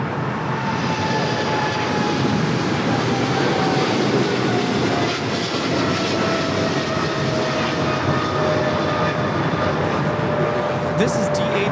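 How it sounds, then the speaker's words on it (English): A DHL Boeing 777 freighter operated by Polar Air Cargo takes off from Los Angeles, its jet engines a loud, steady roar that holds throughout with a faint rising whine. "This is DHL, operated by Polar Air Cargo 992, taking off to Cincinnati on the 777 freighter."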